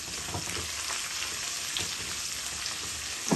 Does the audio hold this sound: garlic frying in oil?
yes